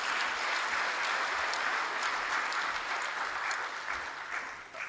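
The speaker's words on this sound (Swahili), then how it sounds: "Makofi mengi sana." Sustained audience applause fills a hall at a government ceremony on public-institution dividends, a dense, steady wash of many hands clapping close by, holding level throughout and dipping slightly near the end.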